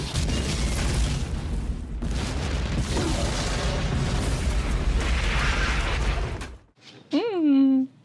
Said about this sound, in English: Cue the explosions.